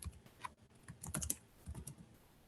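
Close, quiet typing on a computer keyboard, a short run of light key clicks with uneven spacing.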